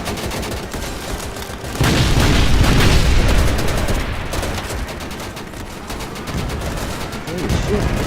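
Battle sounds in the video game Easy Red 2 on Xbox: dense, loud volleys of gunfire with heavy booming explosions rolling through, sustained and chaotic, with a voice shouting over the din.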